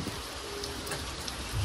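Steady rain falls outdoors during a monsoon downpour, a soft continuous hiss of drops throughout with no speech.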